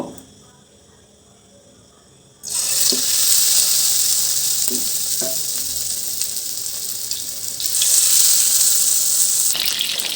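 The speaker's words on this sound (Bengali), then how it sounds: "তেলটা আমার গরম হয়ে গিয়েছে আর চিকেনগুলো আমি এখন দিয়ে দেব" Chicken pieces dropped into hot oil in a nonstick pan set a loud, hissing sizzle going suddenly after a quiet start, and the close, continuous frying carries on with small pops and swells.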